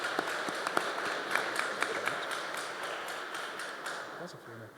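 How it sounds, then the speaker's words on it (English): A conference audience at FinTech North in Manchester gives a round of applause for the chair; faint, distant clapping with scattered sharp claps that gradually thins and fades. "Round of applause for Claire as well for doing an awesome job chairing that for us."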